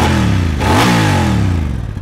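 A Honda Transalp XL750 motorcycle with a low-slung exhaust revs up sharply and close, its engine note climbing to a loud peak and then easing off into a rougher idle.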